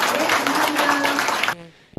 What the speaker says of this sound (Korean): 힘찬 박수 해주시겠습니다